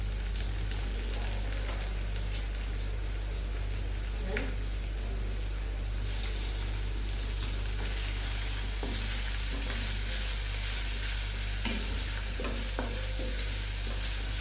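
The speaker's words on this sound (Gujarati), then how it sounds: "ત્યારબાદ 3 મીડિયમ સાઇઝની સમારેલી ડુંગળી નાખી દેશું અને તેને બરોબર મિક્સ કરી લેશું" Chopped onions stirred and frying in a pan, a steady broadband sizzle with occasional scrape of the spoon throughout, close and fairly loud with a constant low hum underneath.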